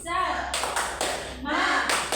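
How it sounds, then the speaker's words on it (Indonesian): A classroom group does a rhythmic spirit clap, bursts of hand claps in a patterned beat mixed with children's voices chanting along, loud and close in a room. "Tepuk semangat."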